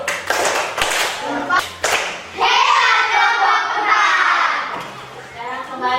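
Students in a Year 4 classroom give a cheer with patterned clapping for a group, a few quick claps followed by a long, loud stretch of children's clapping and voices together.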